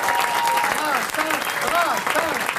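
A live audience applauds loudly, a dense, continuous wash of clapping, with voices and cheering mixed into the noise.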